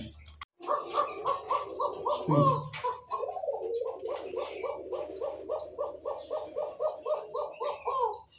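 Pigeons coo in a steady, rhythmic run of repeated soft calls, close and fairly loud, with a brief dog-like bark near the start.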